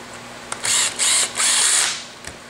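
Screw being fitted using the M35 foam filled installation tool, heard as three close, loud whirring bursts, the middle one short and the last longest, with faint clicks before and after.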